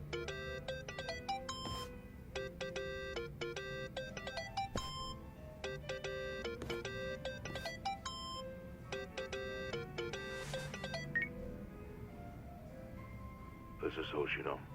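A mobile phone ringtone in a crime drama game plays as a repeating bright melodic pattern in regular bursts, fairly loud, then gives way to other sounds near the end.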